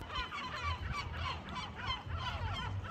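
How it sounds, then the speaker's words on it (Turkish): Several gulls call repeatedly at a distance beside a seaside restaurant on Oinousses island, Greece, their harsh squawks overlapping against a low background rumble. "Coşmuş durumda martılar."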